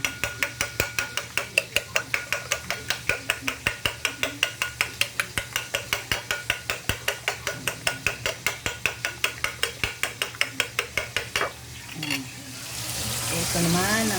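Sautéing in a pan while cooking egg with tomato, a rapid regular series of close tapping strikes like beating against the pan, then a loud hissing sizzle takes over at the end.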